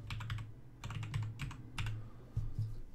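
Close, quiet clicking on a computer keyboard comes in quick bursts of keystrokes, a tapping search entry with short pauses between runs.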